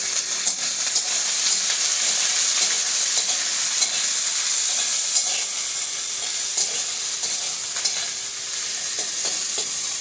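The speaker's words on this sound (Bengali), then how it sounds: "পেঁয়াজ কুচিটা দিয়ে দিচ্ছি।" Chopped onion frying in oil in a pan over medium gas heat, a steady bright sizzle running the whole time, close and loud, with occasional stirring scrapes and no talking.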